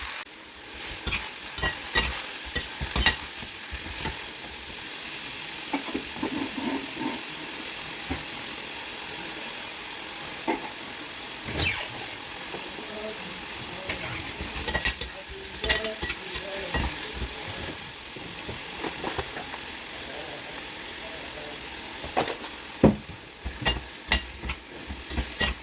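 Vegetables sizzle and fry in a small kadai while being stirred, with steady hissing and frequent scraping strokes of a spoon against the pan throughout.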